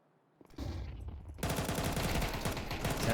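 Rapid bursts of AK rifle fire in a Counter-Strike esports match, loud sharp shots stacking into dense sustained gunfire after a brief quieter start.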